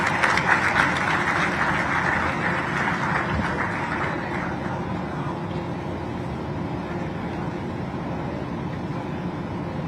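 Crowd applause welcoming the Chief Minister at the opening of the Bhopal Global Investors Summit, a dense sustained clapping that swells early and then tapers gradually over about ten seconds.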